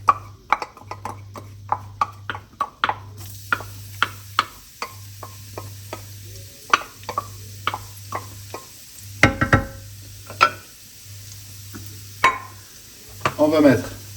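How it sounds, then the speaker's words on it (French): Garlic sautéing in a pan for a creamy chicken dish, a soft steady sizzle under repeated clicks and taps of a utensil stirring against the pan, with a low hum beneath. "Ensuite, on va faire revenir notre ail."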